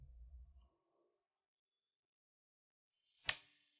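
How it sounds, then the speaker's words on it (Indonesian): A single sharp hand clap, made to seal an oath, rings out loud and close after a long stretch of near silence; a brief low rumble sounds at the very start. "Kita bersumpah dengan tepuk tangan"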